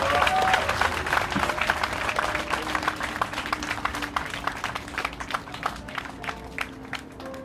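An audience at a Sewol ferry book concert gives sustained applause, dense clapping at first that gradually thins into scattered claps, with a faint voice underneath.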